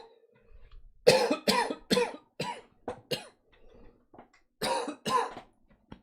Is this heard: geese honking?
no